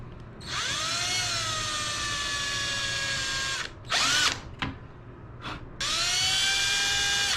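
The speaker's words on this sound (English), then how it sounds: "I'm going to drill that out." Small electric drill with a number 40 bit drilling out an aircraft rivet on a nose rib, whining in long high bursts separated by brief pauses and short grinding spurts, close and steady.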